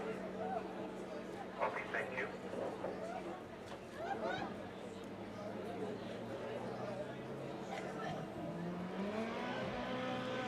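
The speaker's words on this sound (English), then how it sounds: "Bevan Chowdhury in the turbocharged VW Polo powers his way through" A turbocharged VW Polo accelerates hard on a top-end speed run, its engine note climbing steadily under constant background noise while an announcer talks throughout.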